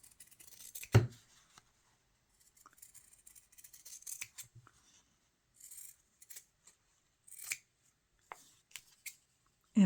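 Scissors cutting fabric for English paper piecing, a series of close, crisp snips and rustles separated by short quiet gaps.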